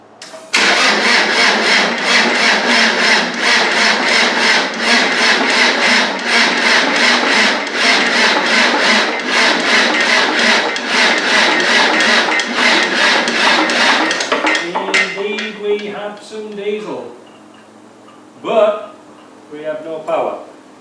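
A Land Rover 300Tdi diesel engine cranks on the starter in a long, loud, rhythmic churning run that does not catch, then stops while someone speaks close by.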